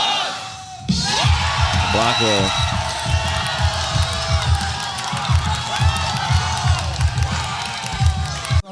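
A crowd erupts in cheering, whooping and yelling at a solo beatbox championship final, loud and sustained from the first second onward, with a voice calling out over the noise.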